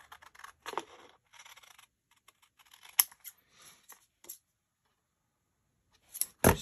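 Scissors trimming in a quiet room, several short crisp snips and scrapes in irregular bursts with pauses between, close and fairly soft.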